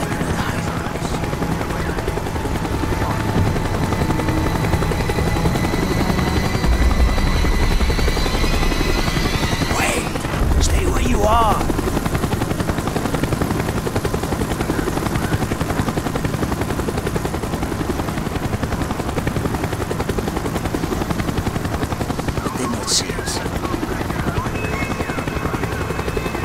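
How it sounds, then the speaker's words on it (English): A helicopter in the Call of Duty Black Ops video game drones loudly and continuously with rotor thrum, with brief game sound effects such as gunfire-like bursts mixed in. "The chopper is coming around again."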